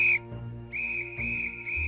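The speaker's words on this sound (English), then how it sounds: "Molly stopped, pulled out Susan's junior first aid whistle, and gave 3 short blasts" A small junior first aid whistle gives shrill, loud, close blasts, one ending at the start and three more following in a steady rhythm, with no talking.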